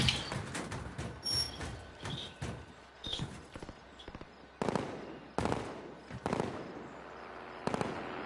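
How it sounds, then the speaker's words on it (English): Gunfire in an online console shooter game, heard as a series of sharp, distant-sounding shots and bangs in irregular bursts across the clip over a steady background. "Who's shooting?"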